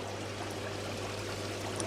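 Water drops into the outer filter ring of a koi pond holding K1 media, a steady close trickling and splashing flow without pause.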